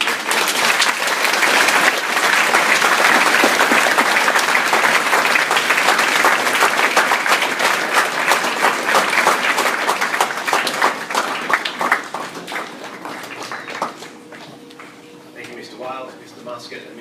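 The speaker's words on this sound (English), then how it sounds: "Let us applaud all of these." Audience applauding at a school academic excellence awards ceremony, long sustained clapping from a crowd that gradually thins and fades, with a voice speaking at the end.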